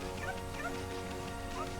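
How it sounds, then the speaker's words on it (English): Several short dog barks and yips from the video game Okami sound over steady background music, moderately loud and spread across under two seconds. "Hello, dogs."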